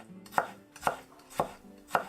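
A knife chops cold ramen (hiyashi chuka) ingredients on a cutting board in a cooking studio, four evenly spaced, crisp, close strokes with no talking.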